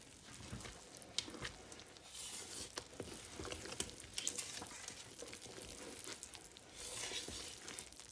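Cinnamon roll dough being mixed by hand with four cups of flour and a sugar and oil mixture: faint, close scraping and soft sticky stirring with scattered small clicks, steady throughout with no talking.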